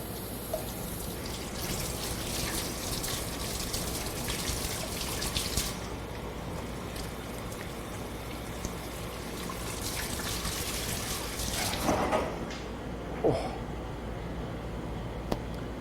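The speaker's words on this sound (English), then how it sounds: "So I'm just going to wash up my hands again. Oh, it's so cold." Cold tap water running over hands at a sink in a butchery setting, a steady close stream and splash with a few brief clinks, no talk.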